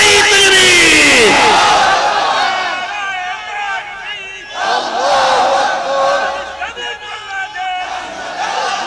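A large crowd roars a loud collective 'Allahu Akbar' takbir chant in answer to a preacher at an Islamic religious sermon gathering, with swelling waves of massed voices and shouting throughout.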